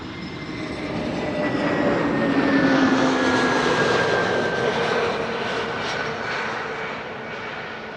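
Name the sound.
KLM Airbus A321neo arriving at Schiphol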